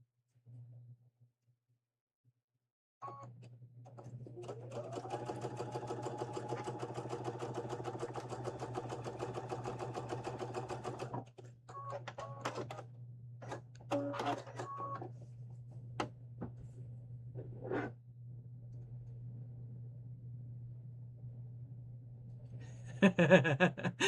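Close-up sewing machine stitching at a steady, moderate pace in a long continuous run, followed by shorter bursts of stitching and stops, over a constant low motor hum in a quiet room.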